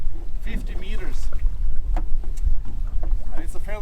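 Steady wind roars across the microphone aboard a lobster fishing boat at sea off the Norwegian coast, a dense, close rumble with gusty surges that runs the whole time, with faint voice-like sounds now and then.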